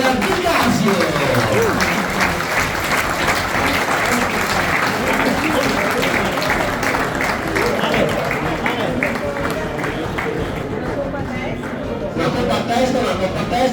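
An audience applauds at a regional amateur football awards ceremony in a Novotel hall, loud continuous clapping with crowd murmur and a voice speaking over it.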